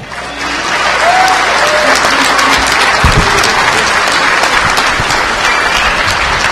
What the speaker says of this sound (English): let's give those guys a warm round of applause